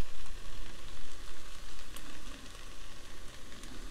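Garlic and pre-mixed spices sizzle in a pan for a red onion sauce, a steady, close, loud frying hiss with slight stirring movement throughout and no talking.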